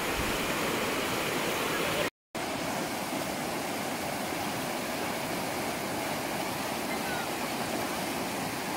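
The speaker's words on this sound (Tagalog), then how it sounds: "Sobrang lakas ng agos dito." A strong river current rushes at a river crossing swollen after rain, a dense, constant roar of churning water close by, broken only by a brief cut.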